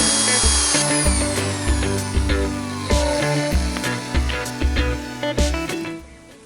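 A close, loud power drill whirs and grinds continuously, boring into a metal mill base, the motor pitch wavering and dipping as the bit bores in, easing off near the end.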